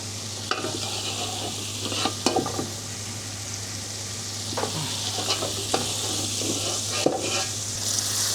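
Rice and lentils are stirred and fried in a little oil, giving a constant crackling sizzle with periodic scrapes and clinks of a spoon against the pot, close and fairly loud under a low steady hum.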